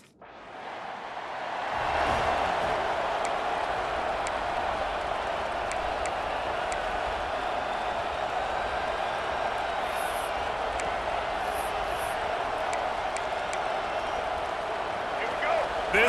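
A large stadium crowd at an Oklahoma Sooners college football game makes a constant distant roar. Commentators talk over it and occasional whistles cut through.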